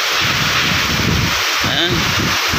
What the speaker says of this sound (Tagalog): sobrang lakas pa rin ng ulan kasama pang hangin